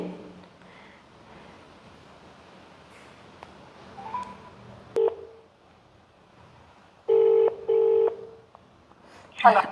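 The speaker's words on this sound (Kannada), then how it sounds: "ಇವಾಗ ಡೈರೆಕ್ಟ್ ಫೋನ್ ಮಾಡ್ತಾಯಿದ್ದೀನಿ ಇಲ್ಲಿ" A few short electronic dialing beeps, each a clear steady tone, separated by pauses over faint background noise, then a final louder blip.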